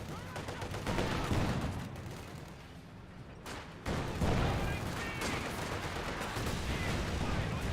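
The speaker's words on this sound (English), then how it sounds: "Incendiary Mortar Barrage hitting, burning the 7-man conscript squad" Incendiary mortar barrage striking a seven-man conscript squad in a Company of Heroes 2 battle, with dense gunfire and impact bursts rolling through the mix, a brief lull midway, then renewed heavy fire, all fairly faint and under faint talk.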